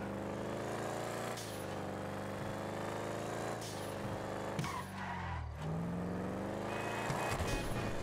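A car drives through city streets in Grand Theft Auto V, a steady engine and road drone with a few brief swells and passing noises, heard alone.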